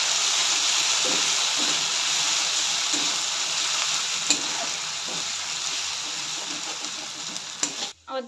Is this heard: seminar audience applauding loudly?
no